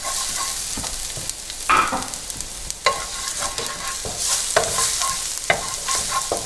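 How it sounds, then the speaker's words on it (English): Garlic and olive oil fry in a hot pan with a steady close sizzle, sharp crackles and spatters popping over it and a few stirring scrapes, no voice. "So after the pan's hot, I'm going to add in my olive oil. And after, I'm going to add in my garlic."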